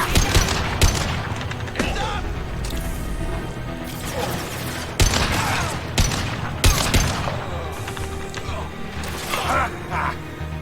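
Rapid assault rifle bursts mixed with heavier sniper shots from the Mass Effect 2 video game, loud and repeated in irregular volleys with clanking mechanical sounds, heard alongside talking.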